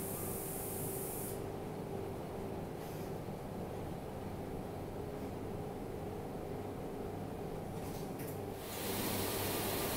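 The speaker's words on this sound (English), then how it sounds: "the machine is placing the phosphor into the LED package on top of the LED chip" An LED manufacturing machine dispenses phosphor onto LED chips inside their packages, producing a steady, loud mechanical hiss and hum that runs unbroken throughout, with a brief shift in tone near the end.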